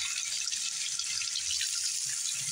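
Water is poured and flows steadily into a bathroom drain, with a continuous close hiss and gurgle that holds level throughout.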